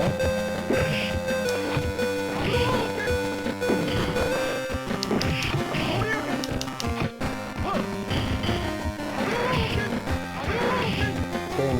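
Super Street Fighter on a handheld Android emulator plays dense game music and fighting effects with harsh, crackling distortion, continuous and fairly loud with repeated punchy hits.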